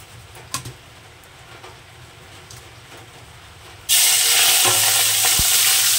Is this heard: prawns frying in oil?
yes